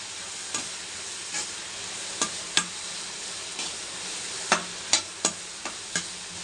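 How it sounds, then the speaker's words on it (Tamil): Green chillies, curry leaves and crushed garlic are sautéed in a pan for a crab curry, a soft steady sizzle broken by sharp scrapes of a spatula against the pan, with no one talking. "நல்லா வதக்கணும்"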